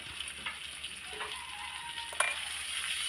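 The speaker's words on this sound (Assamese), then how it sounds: "মই কেঁচা গোন্ধটো যোৱালৈকে ভাজি আছোঁ" Chopped ginger and spices fry gently in a pan, a soft, even sizzle heard close but faint, with a few light clicks and one sharp clink of a utensil.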